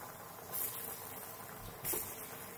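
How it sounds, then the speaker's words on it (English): Bengal gram lentil cakes fry in very hot oil with a faint, steady bubbling hiss. Two brief louder surges of spitting break the quiet run. "we just need to fry them in very hot oil till they turn crispy on the outside"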